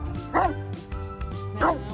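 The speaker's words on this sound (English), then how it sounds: "At first, he started barking and had some fear" A dog gives two short, yelping barks about a second apart, close by, with a low rumble of background noise between them.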